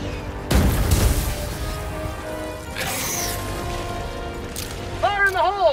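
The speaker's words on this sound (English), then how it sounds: "Orbital strike incoming." Orbital strike explosion in the video game Helldivers, a heavy boom that bursts in early and rumbles on under a layered game soundscape, with a voice and warbling effects cutting in near the end.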